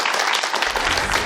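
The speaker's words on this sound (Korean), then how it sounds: "박수 한번 부탁드리겠습니다." Dense, steady audience applause at a Korean lecture show on football, loud and continuous for its brief duration with no talk over it.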